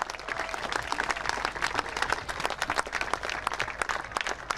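Crowd applause at a traksjesilen sailing race prize announcement in Sneek, steady dense clapping from a large gathering, continuous and fairly near with no talk over it.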